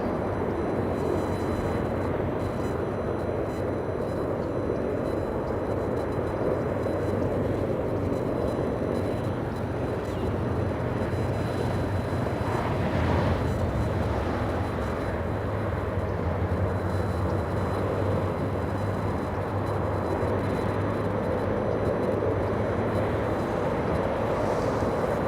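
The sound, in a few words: Marine One presidential helicopter lifting off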